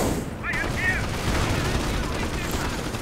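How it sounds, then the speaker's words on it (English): Bursts of .30 caliber machine-gun fire crackle through a World War II strategy game battle, rapid rattling shots layered over a dense din of combat, with a voice commentating throughout. "Another 30 caliber though stops them."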